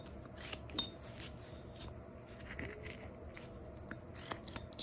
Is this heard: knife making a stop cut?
yes